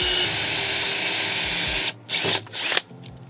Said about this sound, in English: Drilling this top hole now